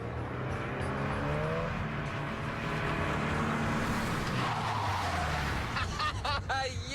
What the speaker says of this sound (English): imagine parallel parking at over 30 miles an hour in a spot less than 2 feet longer than your car